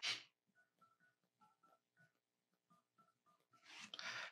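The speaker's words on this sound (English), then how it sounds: "you'll simply type in the phone number" A Samsung Galaxy S24 keypad sounds a quick series of about a dozen short, faint dialing tones as a phone number is typed. Brief bursts of handling noise come at the start and end.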